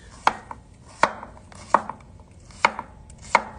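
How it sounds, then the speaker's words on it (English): A knife chops cucumber on a board in five crisp, evenly spaced strokes, each a sharp close tap, with no voices. "whenever you're chopping food, just kind of keep it similar if you can"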